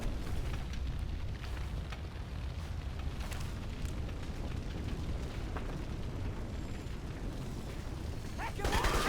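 Grenade blasts in the shooter game Crysis 2, a dense continuous rumble of explosions and combat noise with a louder burst near the end, mixed under battle chatter.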